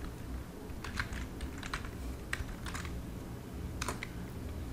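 Soft keyboard typing while a Photoshop layer group is renamed, made of scattered quiet keystrokes in small clusters over a steady low hum, with no talking.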